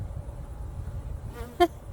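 Honeybees at an open hive on a very hot day give a faint, steady low hum, with one brief louder buzz as a bee passes close near the end.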